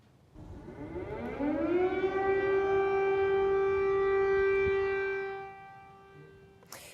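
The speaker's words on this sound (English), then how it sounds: "In Kiev, the wail of air raid sirens echoed through the streets of the capital again." A civil defense air raid siren in Kyiv winds up and holds a long, loud, steady wail, then fades away near the end, with no voices.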